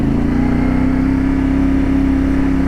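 The engine of a CFMOTO 450MT (IBEX) adventure motorcycle runs close and loud with a steady, rowdy, throbbing drone and no voices.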